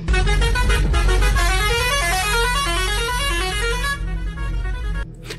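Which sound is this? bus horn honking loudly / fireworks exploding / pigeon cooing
bus horn honking loudly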